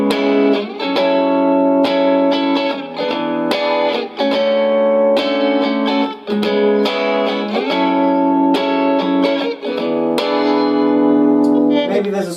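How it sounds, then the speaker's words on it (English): Electric guitar on the middle pickup through a clean amp channel pushed into a muddier, slightly distorted tone, playing continuous chords and picked notes with sustained ringing and a light reverb tail, fairly loud and steady. "if you were to press it out, then the clean channel becomes slightly more kind of muddied and a bit more distorted"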